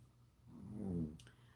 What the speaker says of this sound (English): She snores a lot when she sleeps too.